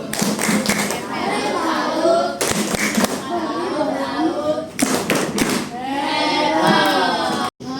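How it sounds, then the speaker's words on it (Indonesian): Children in a fifth-grade primary classroom perform the rhythmic 'tepuk salut' clapping routine, with patterned bursts of claps and taps repeating over several seconds, mixed with chanting voices and an adult talking. "sekali lagi tepuk salut"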